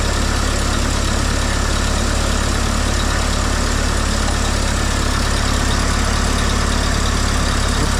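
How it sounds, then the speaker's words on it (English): A small propane forklift engine idles a little high with a steady, unbroken drone and hum, loud and close, with no voices over it. "It's idling a little high."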